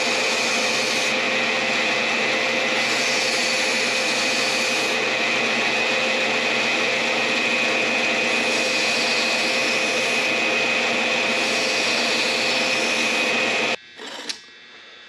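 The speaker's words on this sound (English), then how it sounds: "So I'm going to continue grinding this and see if I can finish it off." Steady, loud grinder roar as a knife blade cut from a circular saw blade is ground, holding constant for about fourteen seconds before cutting off with a few faint clunks.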